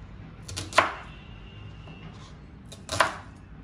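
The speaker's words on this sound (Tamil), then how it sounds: "அதுக்கப்புறம் இந்த வெங்காயத்தை முதல்ல 4ஆக கட் பண்ணுங்கள்." A knife strikes a cutting board twice while slicing an onion into quarters, two sharp, close chops separated by a quiet pause, with no voices.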